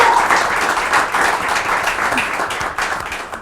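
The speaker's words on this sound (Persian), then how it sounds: "بچه‌ها صدای پراو تشویق نداره؟" A live audience at a Nowruz special broadcast applauds a performer, steady close clapping from many hands, fairly loud and even, gently thinning toward the end.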